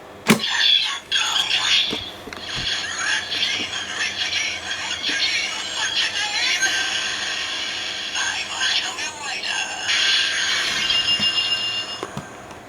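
Kamen Rider Ex-Aid DX Gashat toys inserted together with the Mighty Action X Gashat into a DX slot holder, giving off a busy, tinny stream of electronic effects and announcer-style voice lines that runs steadily for about twelve seconds.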